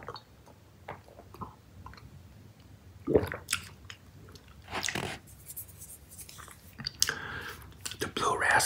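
Close, wet chewing of Charms Blow Pop Inside Outs gumball candy, with squishy smacks and crunchy bites in irregular bursts, some louder than others, against a quiet background.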